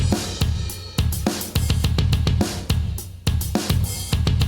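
Edited MIDI drum track played back from a music app, a punchy, dense pattern of sharp hits over a full low-end mix in a reworked version of a song, loud and steady with no voices.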